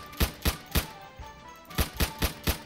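Gunfire rings out at targets in a shooting video game as two rapid bursts of sharp, evenly spaced shots, three in the first volley and four in the second, separated by a short quiet pause.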